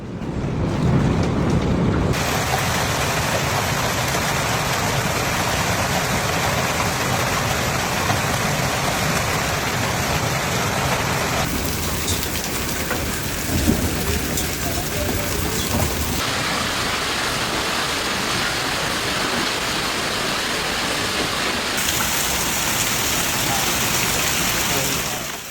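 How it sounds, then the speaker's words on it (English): Heavy hail and intense rain pour down steadily during a hailstorm near Denver, a dense, continuous roar of impacts on surfaces and roads lasting throughout with only slight shifts in texture. "of heavy hail and intense rainfall severely reduced visibility."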